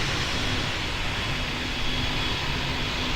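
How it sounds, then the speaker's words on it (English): An Emirates airliner takes off from runway 35 in the PTFS (Pilot Training Flight Simulator) game, a steady, loud engine roar that holds evenly throughout with no voices. "Emirates 5516 heavy, you're cleared for takeoff on runway 35."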